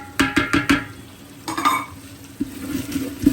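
Ginger and garlic being fried in a pan for khichuri, with quick scraping stirs and utensil clatter against the pan over a soft steady sizzle, close by and without talk.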